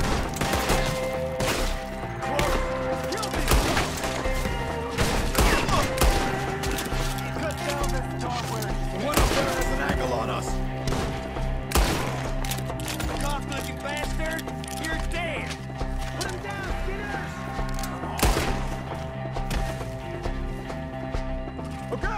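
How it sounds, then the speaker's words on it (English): Scattered gunfire in a Red Dead Redemption 2 shootout, sharp shots cracking irregularly over hoofbeats and a busy game soundscape, with voices shouting now and then. "Shoot the ones up there first!"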